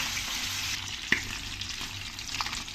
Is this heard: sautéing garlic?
yes